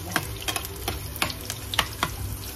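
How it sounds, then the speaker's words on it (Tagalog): Garlic and onions for egg adobo sizzle in a pan under a series of sharp spatula clacks, about eight irregular strikes in under three seconds, close and crisp with no talking. "Lagyan natin ng maraming sibuyas."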